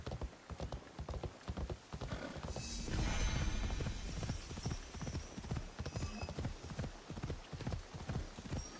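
Horse hooves clip-clop in a fast, steady rhythm in the video game Assassin's Creed Shadows, close and loud, with a brief swell of rushing game noise partway through.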